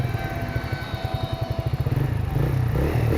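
A Bajaj Freedom 125 CNG motorcycle engine starts and putters with a rapid, regular thumping idle, rising slightly in intensity toward the end, close by.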